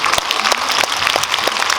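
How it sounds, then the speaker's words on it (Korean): Cinema audience applause at a Korean film screening talk at the CGV Yeongdeungpo Starium hall: loud, dense clapping from a large crowd, sustained and near, with a few sharper individual claps standing out and no speech. "박수 감사합니다."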